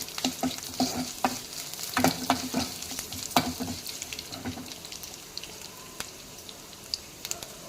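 Garlic fries in hot oil for a drumstick sambar, giving a steady close sizzle broken by repeated sharp scrapes and clinks of stirring, with no voices.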